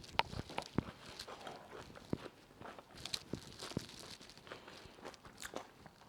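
A gluten-free sandwich of crunchy raw vegetables rolled up and bitten into, giving faint, close crunching and chewing sounds in irregular bursts with quiet pauses between.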